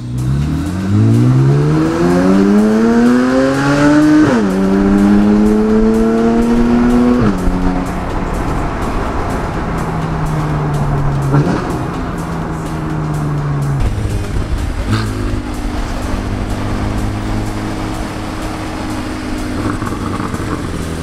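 A car engine and exhaust in normal driving mode revs up in rising sweeps, then settles into steadier drones with shifting pitch, loud and close throughout with no talking.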